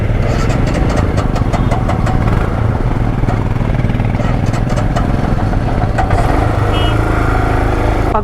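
A motorcycle engine on a cold mountain road through Zojila Pass struggles to start, cranking and sputtering in loud rough bursts with uneven knocking pulses, close by and continuous.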